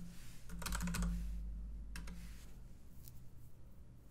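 Someone types on a computer keyboard, a quick burst of clicking keystrokes followed by a few scattered taps, close and fairly clear with no talking.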